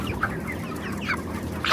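Broiler chickens in a controlled shed cluck and murmur continuously at close range, with one louder squawk near the end and no talk.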